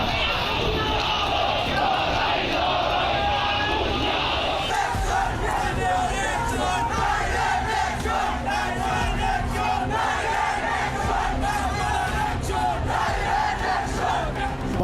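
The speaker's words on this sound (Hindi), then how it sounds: "कट्टरपंथियों की उन्मादी भीड़ डायरेक्ट एक्शन दोहराने का नारा लगा रही है" A frenzied street mob in Bangladesh chants slogans, a loud, continuous roar of many voices shouting in unison, close and unbroken throughout.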